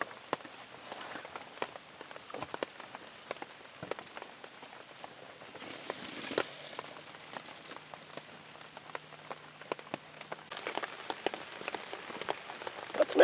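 Rain falls steadily during a storm, with scattered drops pattering and ticking on a nearby surface and a brief heavier wash partway through, with no voices.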